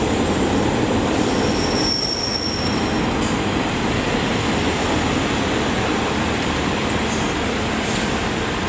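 A Great Western Railway train at Exeter Central station gives a loud, steady rumble of rolling wheels. Faint high squeals from the wheels rise above it at a few moments.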